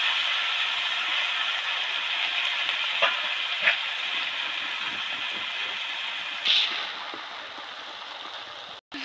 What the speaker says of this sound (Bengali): দেখুন কত সুন্দর ভিতরে তেল টুকবুক টুকবুক করছে